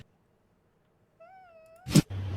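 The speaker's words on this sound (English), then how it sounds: "You being a good kitty?" A pet cat gives a single drawn-out meow at moderate distance in a quiet indoor room, followed by a short burst of handling noise and a steady low hum.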